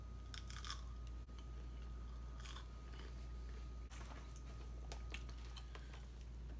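Crunchy bites and chewing of Burger King crispy pretzel chicken fries, with a few crisp crunches spaced over steady background hum, close up and without talk.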